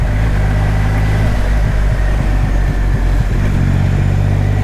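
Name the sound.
Triumph Rocket 3 R motorcycle accelerating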